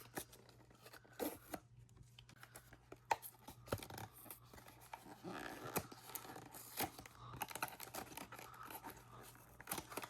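Blind box toy packaging is torn open along its tear strip: faint, scattered ripping and crinkling bursts of cardboard and plastic, close by and quiet, with no talk.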